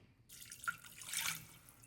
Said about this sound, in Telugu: seventy five percent of the glass water add చేద్దాం దీనికి